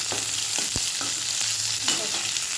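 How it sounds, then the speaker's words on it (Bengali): Pointed gourd (potol) frying in a pan, a steady close sizzle with a few short scrapes and clinks of a spatula stirring, no voices. "এই দেখো হালকা করে পটলটা আমি ভেজে নিলাম"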